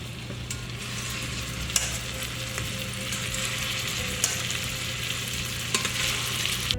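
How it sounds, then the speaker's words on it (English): Meatballs searing in a hot pan on the stove, a steady loud sizzle and frying hiss running throughout with a few sharp pops, close up and without speech. "I go ahead and sear some on the stove"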